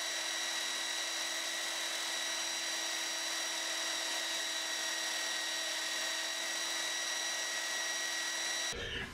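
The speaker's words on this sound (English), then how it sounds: "what I'll do is I'll just make a point on it with my sander" A power sander grinds a point onto a wooden dowel with a loud, steady high-pitched whine and rasp that runs unbroken for about nine seconds, then cuts off abruptly.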